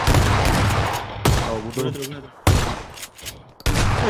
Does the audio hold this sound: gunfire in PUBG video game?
yes